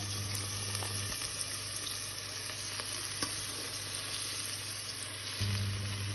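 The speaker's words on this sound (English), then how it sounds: "Now we are going to add all of the callaloo." Callaloo greens added to a hot pot for Jamaican-style steamed callaloo, sizzling and frying steadily up close with a low hum and light stirring scrapes.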